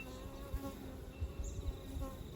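Honey bees buzz steadily around an open hive during an autumn varroa check and inspection, a close, continuous hum with small swells and passing wingbeats, with no voices.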